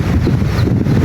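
Cold wind blows hard across the open sea, a dense steady roar with low rumbling gusts buffeting the microphone throughout, no voices.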